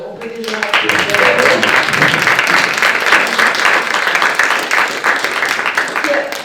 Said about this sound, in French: Alors, on peut déjà applaudir.